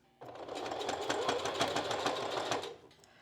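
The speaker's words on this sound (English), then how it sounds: "I'm just going to stitch it as I go" A sewing machine stitches a strapless bra in one steady run of rapid, even needle strokes lasting about two and a half seconds, close and fairly loud, then stops with no voices.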